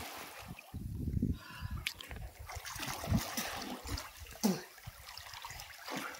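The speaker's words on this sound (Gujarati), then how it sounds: "કેટલું પાણી ઉડે જો" Water splashing and dribbling as people bathe outdoors in the evening, with irregular splashes and pouring close by, under a continuous wet wash of sound.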